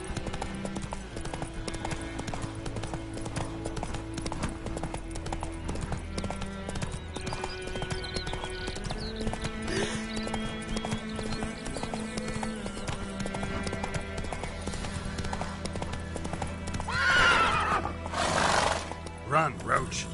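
Geralt's horse Roach in The Witcher 3 galloping in a rhythmic clip-clop across the whole stretch, with a whinny late on, under a game character's spoken lines.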